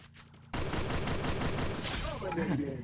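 Rapid automatic gunfire in a battle royale shooter, a loud continuous burst of shots close by after a moment of quiet, with a voice briefly audible over the shooting.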